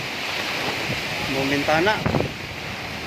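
Strong typhoon wind during Typhoon Odette, a steady roaring rush throughout with someone speaking briefly over it.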